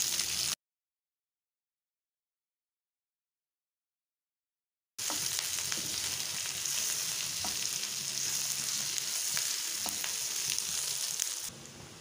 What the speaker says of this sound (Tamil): இது நல்ல கோல்டன் ப்ரௌன் ஆகிற வரைக்கும் ஃப்ரை பண்ணிக்கலாம்.